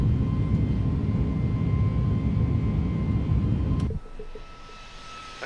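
Airbus A321neo jet engines in thrust climb in a flight simulator game, a loud steady broadband roar with a faint tonal whine that cuts off sharply near the end, leaving a quieter hum with no talking.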